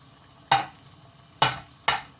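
Three short bursts of hiss, each quickly fading, sound close by, with near-silence between them, as onion pieces hit hot oil in a pan.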